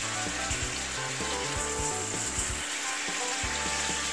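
Chicken teriyaki sizzling in a pan with cooking sake and mirin over high heat, a dense bright hiss with bubbling and occasional stirring scrapes throughout.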